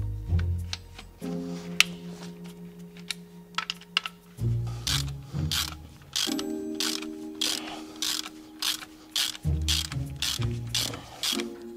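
A ratchet wrench loosens the guides of a car engine's timing belt during diesel injection pump work, giving close, rapid bursts of ratcheting clicks with short pauses between strokes, with no talking.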